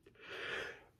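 A single sneeze, a short sharp intake followed by a breathy burst lasting under a second, close to the microphone.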